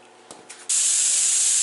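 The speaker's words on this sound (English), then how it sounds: "my air fitting is still leaking here because these chucks on my hoses are wore out" Compressed air leaks from a worn hose chuck fitting in a loud, steady close-up hiss that begins abruptly after a couple of faint taps.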